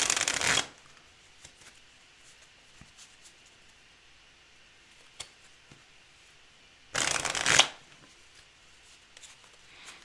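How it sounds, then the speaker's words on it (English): A deck of cards being shuffled for a board game: two loud riffle bursts, one at the very start and another near the end, each lasting under a second, with near silence and faint clicks between them. "Okay, shuffled up."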